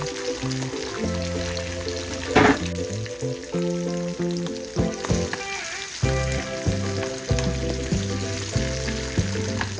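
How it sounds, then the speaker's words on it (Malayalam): Cashews and raisins frying in hot ghee sizzle steadily, close by and fairly loud, with a brief brighter crackle partway through under background music. "നെയ്യ് ചൂടാക്കാൻ വെച്ചിട്ടുണ്ട്. ഇതിൽ ഇനി നമ്മുടെ കാഷ്യൂവും കിസ്മിസും കൂടെ വറുത്തെടുക്കാം."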